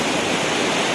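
Steady, full rush of the Batanggadis River flowing through cool, shady hill country, a dense unbroken wash of water noise with no talk over it.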